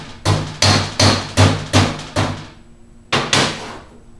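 Eight sharp hammer blows hammering a seal flush during utility trailer axle assembly, close and loud, struck in a quick even rhythm with a short pause before the last two.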